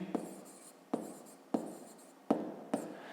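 Handwriting on a surface while recording a Grade 5 maths exercise answer, heard as five separate scratchy pen strokes at a steady rhythm, each with a sharp onset that fades, close and moderately quiet, with no voices.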